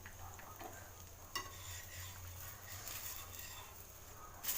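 A tomato and byadagi chili dosa sizzles softly on a pan just after being flipped, a faint, steady frying hiss with a couple of small scraping clicks.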